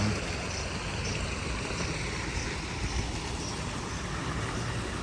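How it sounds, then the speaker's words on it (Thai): A small waterfall beside a cafe pours with a steady, dense rush of water, close and continuous throughout, with no voices over it. "น้ำตกเล็กๆ ชิว ๆ เลยครับ"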